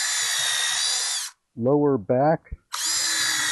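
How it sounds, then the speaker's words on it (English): A power drill bores holes in wood while a tall deck chair is being assembled, giving two long loud whirring runs at the start and end with a short burst of speech between them. "Drill some holes."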